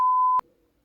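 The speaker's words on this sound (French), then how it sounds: "donc je vais biper ce mot." A short, loud censor beep: a single pure electronic tone lasting under half a second that cuts off abruptly, followed by near silence.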